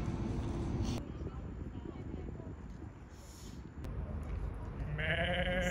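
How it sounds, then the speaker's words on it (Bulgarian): Sheep bleating outdoors on a farm walk, with a few harmonic calls near the end over steady wind-like noise while people talk nearby. "Това са овце."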